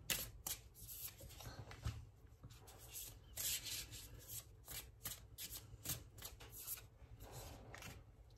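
Oracle and tarot cards shuffled by hand in a steady run of soft papery riffles and rubs, close and fairly quiet, with no talking over them.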